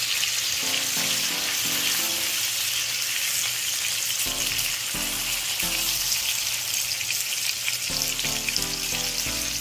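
Salmon fillets sear in a frying pan over low heat with a loud, continuous sizzle and crackle, while faint intermittent tones sound beneath it.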